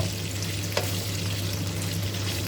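Pork belly deep frying in a large amount of oil makes a constant, dense bubbling sizzle up close, with one brief scrape or clink of stirring partway through and no voices.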